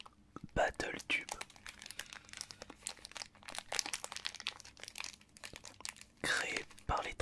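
Close crinkling and tearing of BattleTube trading card booster pack wrappers, crisp rustles in quick bursts with soft whispering between them.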